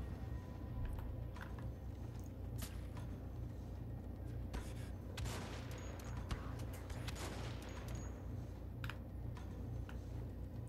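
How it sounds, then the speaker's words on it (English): Gunfire in the World War II shooter Wolfenstein: The Old Blood, with scattered sharp shots and a couple of louder cracks spread over a steady, dense background of game ambience. "Was there somebody else firing at me, or was it just him?"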